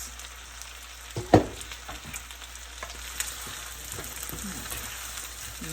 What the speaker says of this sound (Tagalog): Ginsa ako ng sibuyas, saka garlic